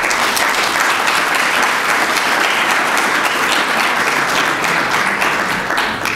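Audience applause at a formal French-speaking event, dense sustained clapping from a large crowd, loud and even throughout.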